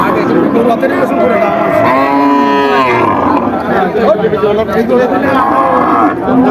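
Cattle low loudly at a busy livestock market selling local and crossbred cows, one long drawn-out moo rising out of steady crowd chatter and bargaining voices around it.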